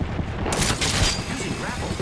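Rapid gunfire bursts in Apex Legends crackle through close, busy game audio, overlapping with other effects and a voice speaking throughout.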